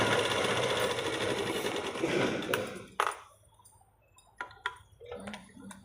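A domestic sewing machine stitching fabric, a rapid close mechanical whir that runs steadily, then stops and restarts in short clicking bursts.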